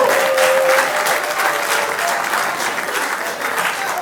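Dense, steady applause from an audience at an organising-committee meeting fills about four seconds at an even, fairly loud level, with no talk over it.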